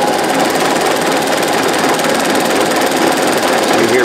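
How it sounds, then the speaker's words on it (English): A Singer 201 sewing machine running on a Consew CSM1001 servo motor, a dense, constant mechanical whirr and rapid needle chatter at high speed, loud and close, with no pauses. "So you hear most of the noises from the servo motor itself."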